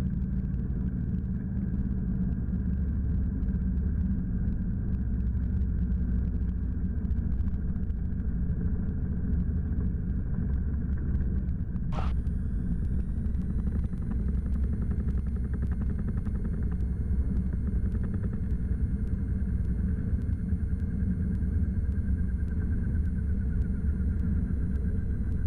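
A Cessna 172 Skyhawk's engine drones steadily from inside the cabin after an aborted takeoff at a mountainous airport, a loud, constant rumble broken by one sharp click midway, followed by a faint high whine.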